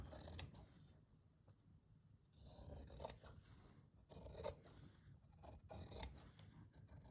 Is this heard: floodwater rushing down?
no